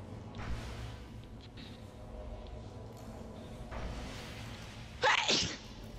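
A single sharp sneeze bursts out near the end, loud against a quiet, low background hum, preceded by faint shuffling sounds.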